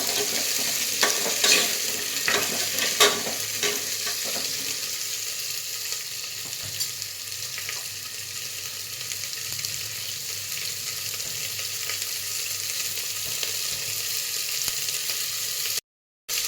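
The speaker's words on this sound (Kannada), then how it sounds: "ಇದು ಕೂಡ ಒಂಚೂರು ಫ್ರೈ ಮಾಡ್ಕೊಳ್ಳೋಣ." Steady sizzling of food frying in a pan, with occasional scraping stirs and clinks near the start, continuing without any voices.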